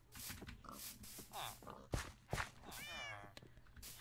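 A cat meows in the video game Minecraft, several short rising and falling mews scattered among clicky game noises, with a faint voice in the background.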